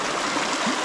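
A river flows with a steady, broad rushing wash, close and continuous throughout.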